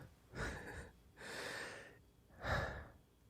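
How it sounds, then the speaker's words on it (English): Heavy breathing close to a makeshift microphone: three loud, airy breaths in a slow rhythm, each lasting about half a second to a second, with short quiet gaps between them and no talking. "you're hearing a lot of breathing"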